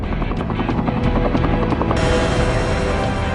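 A Cobra attack helicopter on an army firing exercise flies overhead with a loud, steady rotor chop and a dense turbine roar that stays constant throughout, with no voices.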